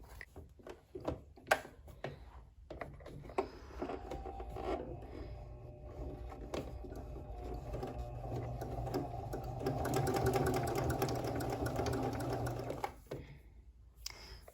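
A Kenmore 385 sewing machine stitches stretch knit fabric with a triple straight stitch, its motor whirring steadily in a continuous run that builds in intensity, with a few brief clicks and handling sounds at the start.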